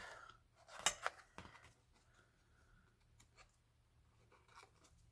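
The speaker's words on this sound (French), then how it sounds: "Elle me paraît un peu longue, donc on va la couper." Scissors snip through a thin decorative cord in a craft project, giving a few sharp close cuts near the start, followed by fainter rustling handling sounds.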